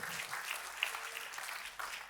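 A church congregation claps briefly in a burst of applause, loud and close with a few sharper slaps standing out.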